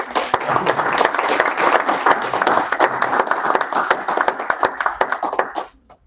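A crowd at a live summit presentation claps and cheers in sustained, dense applause for several seconds, then it fades out quickly at the end.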